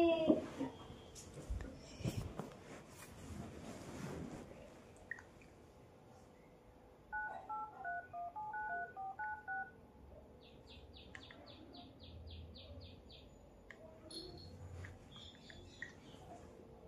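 A series of short, evenly spaced electronic tones rings out in a quiet room, like a phone being dialed, followed by a rapid beeping pattern.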